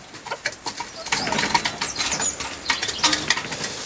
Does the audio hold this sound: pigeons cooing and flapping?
yes